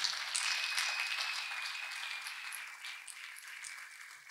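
Congregation clapping during a church testimony service on divine intervention, a steady broadband patter of many hands that holds throughout and fades slightly toward the end, with a faint high tone running beneath.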